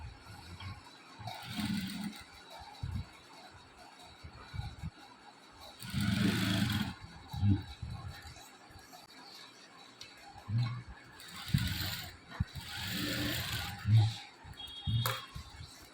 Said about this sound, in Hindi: और इसे हमने सिलाई चला देंगे